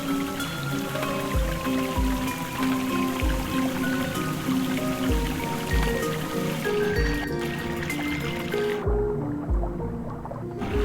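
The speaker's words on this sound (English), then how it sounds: "that waterfall, those waterfalls take you up" Rushing waterfall in the Ender Lilies video game, a dense continuous splashing wash with faint rhythmic thumps beneath, steady and fairly close before the upper hiss cuts away near the end.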